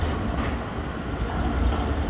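A tram passing through a street in Zurich, Switzerland, gives a steady, fairly loud rumble with rolling wheel noise that holds evenly for about two seconds, with no talk over it.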